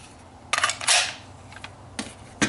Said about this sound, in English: Reassemble your mag.